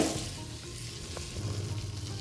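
Flour stirred into melted butter in a pan for a white sauce, a soft continuous sizzle with light scraping strokes of the spoon, close and fairly quiet, no talking.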